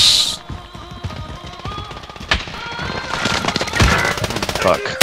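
Gunfire in the Warzone/Apex shooter: rapid automatic bursts and single sharp shots crack close and loud over several seconds, mixed with impacts and game effects.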